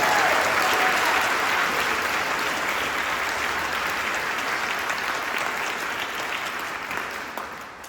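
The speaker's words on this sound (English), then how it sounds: "Let's applaud them again." Sustained applause from an audience after a choir performance, full and steady with no talk, gradually fading toward the end.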